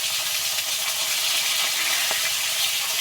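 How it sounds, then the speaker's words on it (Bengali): Fish for a curry frying steadily in a pan, a loud, continuous bright sizzle with no pauses and no talk over it. "তবে আমি কিন্তু ঝোলের মাছ সবসময় একটু কম ভাজি একদম কড়া করে ভাজি না"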